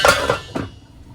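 A metal lid set onto a cooking pot of simmering curry, giving a few quick close clinks that fade into quiet.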